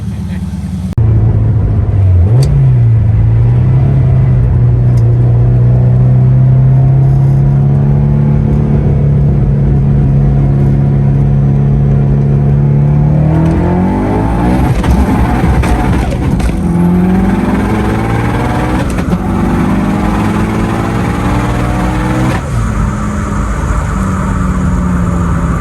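Subaru Forester XT with a stock-block engine making over 700 wheel horsepower, driven as a daily car: a loud close exhaust drone climbing steadily through long pulls, with shifts and renewed acceleration.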